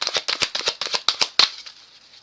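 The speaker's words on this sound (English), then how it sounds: "See, I'm shuffling." Playing cards riffle-shuffled close by, a quick run of about a dozen crisp rustling bursts that thin out into a soft trailing flutter, with no voices.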